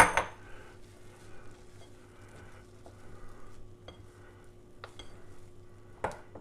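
Death-by-chocolate brownie batter being mixed in a bowl for baking on a barbecue: soft scraping and stirring with occasional light clinks of a utensil against the bowl, faint and close, with a louder clink near the start and end.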